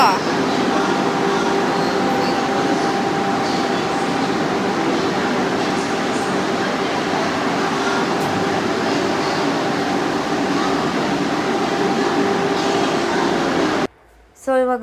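A loud, continuous rumble and hum of a train, steady throughout, ending with a brief drop near the end.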